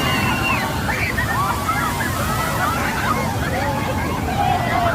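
An ocean wave surges over rocks, a loud, steady rush of churning, sloshing water throughout, with distant voices and cries rising faintly above the roar.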